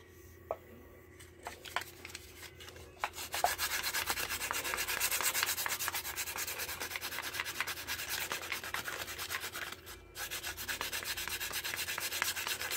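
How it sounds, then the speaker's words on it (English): A wooden knife handle is sanded by hand with coarse sandpaper and no power tools. Close, quiet, continuous rubbing strokes follow a few light taps, with a brief pause before the scraping resumes. "Now sanding to me is necessary if you want the"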